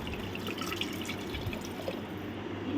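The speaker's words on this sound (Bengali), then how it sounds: "এবার আমি জল দিয়ে দেবো" Water is poured into a cooking pot with a steady, close splashing and trickling that runs without a break for a few seconds.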